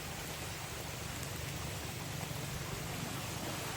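Heavy rain falls beside a stream during a fishing outing, making a steady, even hiss of water that stays faint and unbroken, with no one speaking.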